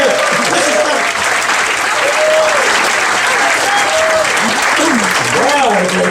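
A stand-up comedy club audience on a Tuesday night applauds the comedian as he comes up, loud, close, continuous clapping with cheers and whoops rising over it.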